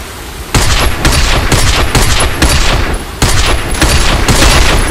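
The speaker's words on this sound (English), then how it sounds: "Alright then, shoot that sign." Gunfire from the Binary Domain video game, a steady run of loud, close shots in several bursts that go on for most of the five seconds, with no talk over them.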